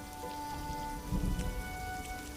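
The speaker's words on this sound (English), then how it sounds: "Relentless downpours transform the low-lying jungle into a sodden swamp." Heavy rain pouring down on low-lying jungle in eastern Peru, a dense, constant hiss of drops with a brief low rumble in the middle.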